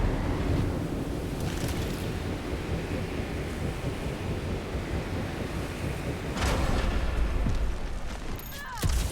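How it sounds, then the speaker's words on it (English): Strong wind howls in the Guardians of the Galaxy video game, a dense, loud roaring rush that swells near the end with a few brief higher whooshes. "This wind shall not break our determination!"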